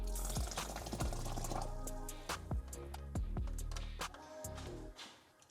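Thick blended mushroom soup pours from a food processor back into a pot, with close wet glugging, dripping and splattering plops over about five seconds.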